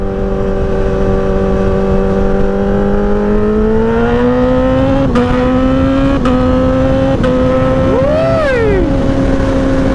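A Honda CBR1000RR sportbike fitted with an M4 exhaust idles loud and steady up close, then its revs climb and hold high with a few sharp blips and a quick swell. A voice briefly exclaims over the engine.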